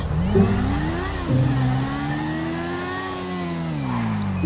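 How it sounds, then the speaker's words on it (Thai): A car in the GTA V video game accelerates hard through a red light. The engine revs up steadily and stays loud and close, with its pitch climbing and then easing off. "ออกตัวครับออกตัวฝ่าไฟแดงไปเลย"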